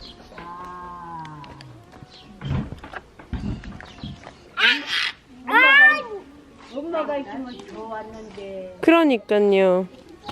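A cat meows several times in a rural yard in Sunchang, Korea, some calls drawn out and some short, with people talking softly nearby between the calls.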